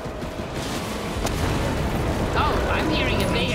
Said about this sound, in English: I'm hearing a big explosion.